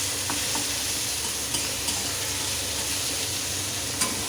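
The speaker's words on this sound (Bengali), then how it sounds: "পেঁয়াজটাকে আমি লাল লাল করে ভাজবো।" Onions fry in hot oil with a dense, steady sizzle, broken by a few faint clinks of a stirring utensil.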